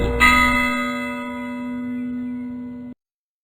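A single deep church bell strike, tolling for the dead, rings out and hangs in a long, steady resonant hum that fades slowly before cutting off.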